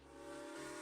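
A steady, breathy steam whistle sounds for under a second, fairly faint, with a hissing edge.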